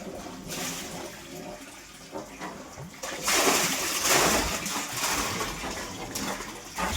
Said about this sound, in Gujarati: આ કુંડામાં ડારનું પાણી આવે.